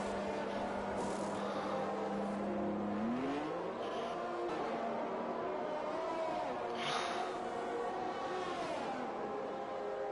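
A race car idles in the pits during an online league race at Austria in a racing video game; a steady engine drone rises in pitch partway through, then holds a continuous whine, loud and close, with no voices.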